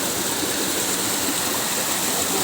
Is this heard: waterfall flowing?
yes